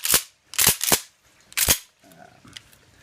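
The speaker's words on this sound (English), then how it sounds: "you should be able to do a quick action check, make sure that everything's properly set" A Mossberg 500 pump-action shotgun being cycled for an action check: several sharp metallic clacks of the slide racking back and forward in quick succession, close and crisp, followed by softer handling clicks.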